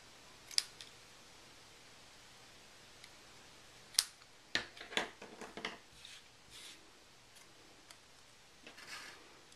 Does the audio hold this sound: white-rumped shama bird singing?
no